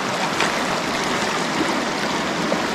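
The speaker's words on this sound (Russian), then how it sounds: "Здесь непреодолимая горная река Псизуапсе." The mountain river Psezuapse near Lazarevskoye, Sochi, rushes steadily over its bed in a dense, continuous broadband roar, close and loud with no voices over it.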